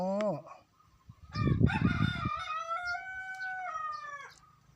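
A rooster crows one long, clear call that rises and holds before trailing off, heard fairly close. A short earlier call and a brief spell of clucking or rustling come before it.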